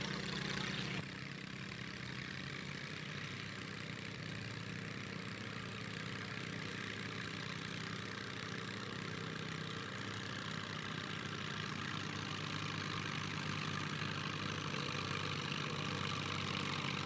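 A tractor at a county tractor pull roars with a loud, steady exhaust drone that holds for the full stretch, dense and continuous with no pauses.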